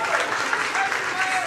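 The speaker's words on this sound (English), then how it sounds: "The applause in between will extend to probably about another half an hour" Applause from the audience at a city council meeting on a police contract, a steady dense wash of clapping filling the room at moderate loudness, with faint voices mixed underneath.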